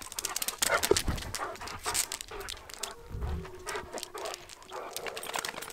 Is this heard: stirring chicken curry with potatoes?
no